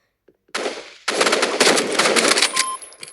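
Video game gunfire with rapid automatic bursts: one short volley, a brief pause, then a long sustained stream of loud, dense shots up close with no talk over it.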